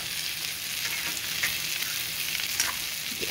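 Breakfast potatoes frying in butter in a pan, a steady close sizzle and crackle with faint pops, no voices.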